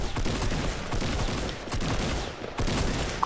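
Sniper rifle shots ring out during a Fortnite battle royale match, with several sharp reports and a dense gunfire-like clatter running nearly continuously at close range.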